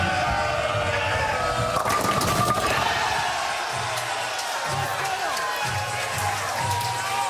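At the 2019 PBA bowling playoffs, an arena crowd keeps up a broad roar with scattered whoops and cheers, heard under a commentator's voice.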